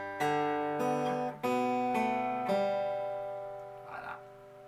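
A fingerstyle guitar plays a short bar of the Irish tune Out On The Ocean, four or five plucked notes, each ringing out before the next. The last note fades gently.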